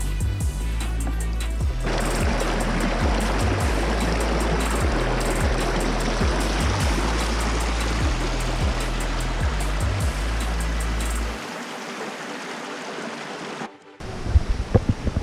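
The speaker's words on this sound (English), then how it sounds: "I see the waterfall." Rushing water from a waterfall and flowing stream along a hiking trail, a loud steady roar with a low rhythmic thrum under it for about eleven seconds, then it drops away abruptly into quieter wind noise.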